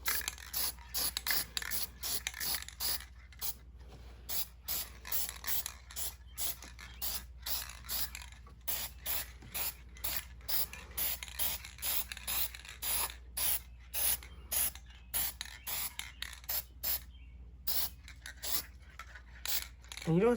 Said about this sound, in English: And you don't have to spray it on heavy either